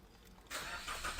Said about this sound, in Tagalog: Start ko muna ang makina.